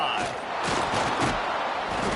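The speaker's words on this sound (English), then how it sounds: "this crowd is buzzing after that last score" A football stadium crowd buzzes in a steady, loud roar of many voices after a score, a dense continuous wash of cheering with no single voice standing out.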